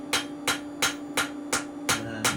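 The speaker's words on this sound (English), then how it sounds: "I'm actually going to forge the cutting edge. You see here, I'll get the round end of the hammer and working it into the corner of the billhook." Round end of a hammer striking a steel billhook at its cutting edge while forging, seven sharp ringing blows at an even, slightly unhurried rhythm, close and clear over a low steady hum.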